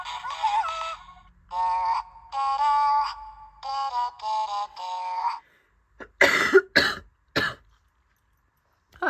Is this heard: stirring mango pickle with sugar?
no